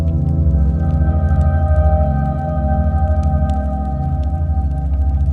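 Nighttime ambient music from the DayZ video game: a dark, sustained drone with low swelling tones and faint scattered high clicks, steady and fairly loud with no voices.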